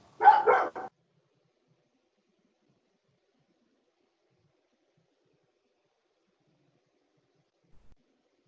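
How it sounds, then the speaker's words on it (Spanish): A dog lets out a short burst of two or three quick barks near the start, fairly close and distinct, followed by long silence with only a faint tiny sound near the end. "está ladrando el perro"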